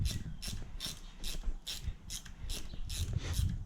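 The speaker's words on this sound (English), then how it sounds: "little ratchet spanner is the way to go" A small ratchet spanner clicks in a steady rhythm, about nine quick bursts, as it loosens an exhaust manifold nut on a Lexus LS400. The sound is close and clear, with no one talking.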